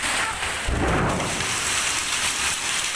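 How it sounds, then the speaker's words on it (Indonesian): A hailstorm pounds down in Sendang Agung village, Bandar Mataram, Central Lampung, as a dense, loud, continuous roar of hail and rain. A low thunder rumble swells briefly near the start. "hujan es ya Allah"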